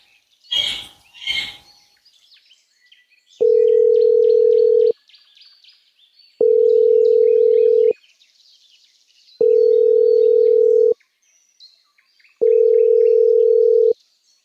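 Phone call to an army headquarters going unanswered: four long, steady ringback tones at a regular pace with pauses between, heard alone after a brief chirping and rustle at the start.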